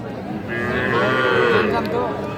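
A bull calf at a cattle market gives one long, loud, close moo that rises and falls over about two seconds against faint background noise.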